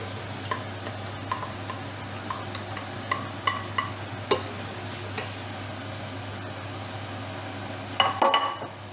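Small courgette pieces frying in a pan, a low steady sizzle with scattered ticks and clacks of a utensil stirring, a quick burst of scraping near the end.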